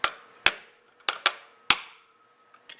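A hammer strikes a plug into a Carter carburetor from a 1941–51 Buick, six sharp metallic taps in irregular rhythm with brief ringing after each, close and alone.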